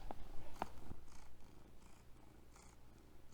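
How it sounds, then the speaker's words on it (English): A cat purrs softly and close in a continuous low rumble, with a few faint clicks and rustles early on and no voices. "Say hi to my cat."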